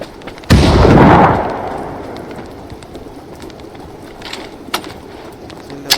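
A stun grenade goes off in PUBG gameplay with a sudden loud blast that rumbles and decays over a couple of seconds, followed by faint scattered clicks and ambient game noise.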